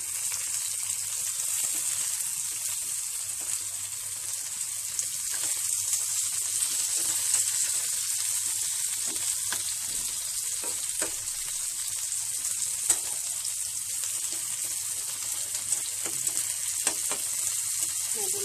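Slices of pointed gourd (potol) fry in a pan for Bengali potol bhaja, giving a steady, close sizzle and crackle with faint stirring, and no one talks.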